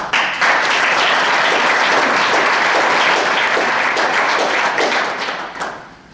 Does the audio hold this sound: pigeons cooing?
no